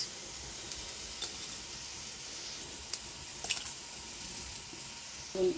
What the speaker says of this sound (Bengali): কয়টা শুকনা মরিচ ভাজিছি তেলও ভাজিয়া লইছি শুকনা মরিচ